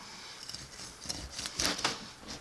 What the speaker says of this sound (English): You can hear that crust